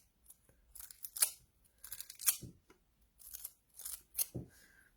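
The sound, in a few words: aluminium foil being put on a plant pot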